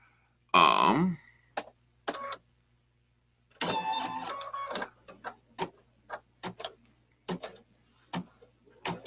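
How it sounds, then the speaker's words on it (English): An embroidery machine sewing with yellow thread starts with a loud mechanical whir, then ticks and clatters in irregular bursts and short stitching runs over a low steady hum, close by with no talking. "I'm going to hit OK. And then I'm going to hit embroider."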